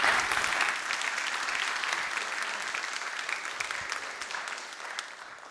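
An audience claps to welcome a speaker to a conference stage for women in STEM, steady full-room applause that starts loud and gradually thins over several seconds.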